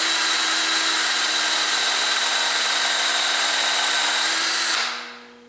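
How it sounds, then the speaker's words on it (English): A power drill bores a dowel hole through the metal bushing of a dowelling jig into wood, a steady high whine held loud and close for about five seconds before spinning down and stopping. "Take your drill, insert it into that bushing, and proceed to"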